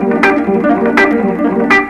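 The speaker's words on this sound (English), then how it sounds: "let's put these 2 things together so we have a longer arpeggio pattern" A quick electric guitar arpeggio pattern runs continuously through effects, with bright repeated plucked attacks and a washy, reverberant sustain, loud and alone.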